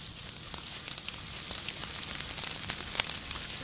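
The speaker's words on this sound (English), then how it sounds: "we got a little snap, crackle, pop going on here" Water hitting hot oil in a pan, sizzling with sharp little pops and crackles scattered over a steady hiss, growing slightly busier toward the end.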